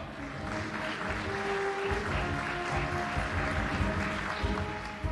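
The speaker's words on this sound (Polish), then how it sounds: "Wielkie brawa!" Audience applause at a regional sports gala in Poland's copper basin as municipal guests are called up; steady, dense clapping continues throughout with a faint hum beneath.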